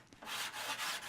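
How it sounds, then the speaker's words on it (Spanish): Wooden edge of a guitar body being polished by hand in a luthier's workshop, a steady close rubbing hiss that swells and fades in a few strokes. "Luis pule el contorno de una de ellas"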